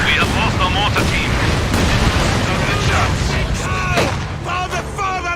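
Incendiary artillery barrage in a strategy video game: a steady, loud rumble of blasts and fire runs throughout, with in-game voices speaking over it.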